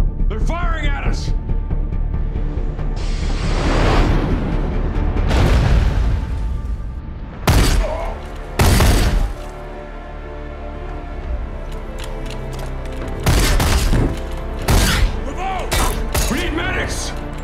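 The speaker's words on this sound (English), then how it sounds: "They're firing at us." Gunfire and heavy blasts erupt in a sci-fi TV battle scene, with sharp booming bursts and thuds spread across the clip, mixed with shouting voices and a dense score underneath.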